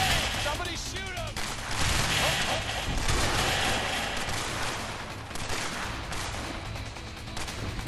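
Gunfire from the video game A Way Out crackles in dense, rapid bursts over a loud, continuous background of game action and engine noise.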